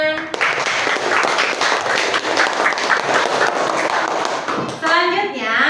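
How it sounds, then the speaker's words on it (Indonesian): Classroom applause and clapping for a student group after their presentation, a dense steady wash of many hands lasting several seconds, with children's voices chattering over it. "Berikan tepuk tangan"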